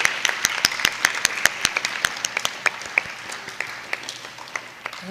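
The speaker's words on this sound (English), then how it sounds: "So let us give one final applause for our 8th graders." An audience at a Christian school graduation claps for the 8th-grade graduates, a soft bed of applause punctuated by sharp, close individual hand claps landing in an uneven rhythm.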